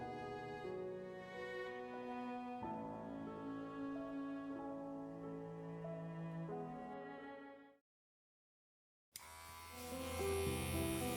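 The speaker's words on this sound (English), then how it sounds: "Shaving my head turned out to be a bit more difficult than I had first anticipated." An electric razor shaves a head, a close, steady buzzing hum whose tone shifts as it moves over the scalp, cutting out briefly to silence before starting again louder, with nobody talking.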